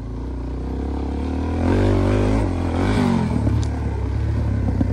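A scooter engine idles and revs nearby, a steady low drone that swells and dips in pitch, with some light clatter, no speech.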